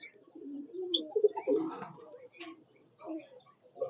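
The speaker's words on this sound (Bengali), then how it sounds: "এটা হোমার কবুতর, এদের বাচ্চা অনেক বড় হয়" Homer pigeons coo in a small pigeon and poultry farm at Durgapur Bazar, Rajshahi, soft rolling coos repeating close by with brief pauses, no talk over them.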